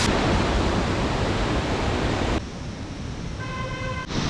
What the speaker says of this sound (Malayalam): കാട്ടിൽ നിന്ന് തന്നെയാണ് കേട്ടോ ഈ ഒരു വെള്ളച്ചാട്ടം തുടങ്ങുന്നത്